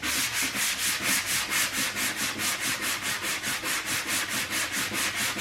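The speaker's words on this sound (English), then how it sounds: "With this one, this is your more aggressive sandpaper." 80 grit sandpaper is rubbed hard over a car dashboard in fast, even back-and-forth strokes, a loud, steady, rhythmic scratching close by with no voices.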